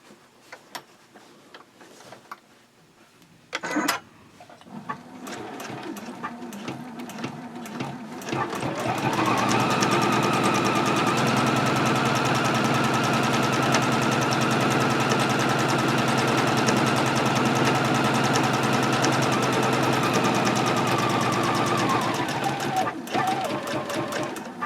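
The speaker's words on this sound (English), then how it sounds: "And you just want to keep sewing the same way until you have all of your lines quilted." A sewing machine runs in a long continuous burst while quilting lines on a fabric pouch, a steady close whir with fast needle ticking, preceded by a few seconds of handling clicks and rustling.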